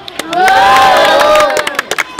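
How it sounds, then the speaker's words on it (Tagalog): A crowd at a street rap battle shouts and cheers in a loud, close, sustained roar that peaks and then breaks into scattered yells and whoops. "gusto ko lang yung suporta ng buong taga Rosario isang malakas na sigawan lang"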